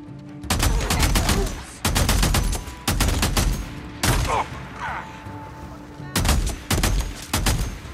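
Repeated bursts of loud gunfire in a sniper ambush in the video game Days Gone, volleys recurring every second or so, with brief gaps and faint voices between them.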